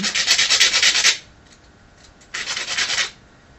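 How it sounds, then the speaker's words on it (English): Sanding QAV-500 drone frame parts smooth, two loud, close bursts of rapid back-and-forth rasping strokes separated by a short quiet pause. "So I'm gonna sand them again"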